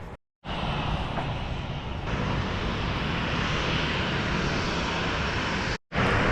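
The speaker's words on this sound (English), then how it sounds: "I can see the planes from here." A loud, steady jet engine roar from a plane passing close overhead near a city, sustained for several seconds without a break.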